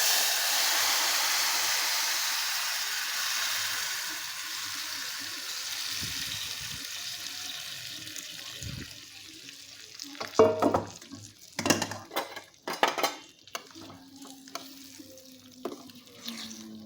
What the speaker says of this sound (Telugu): తాలింపు పెట్టుకోవడం.